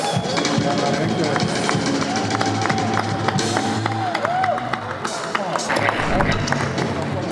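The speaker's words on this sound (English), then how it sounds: "Please a round of applause for Japreza." Audience applause and clapping at a provincial awards ceremony in Harare, a dense steady crowd sound mixed with cheering and speech-like chatter throughout, fairly loud and continuous.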